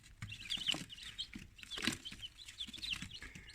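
A newly hatched chick, taken out of an incubator on hatching days 21 to 23, gives faint, high repeated peeps amid soft rustling and handling sounds.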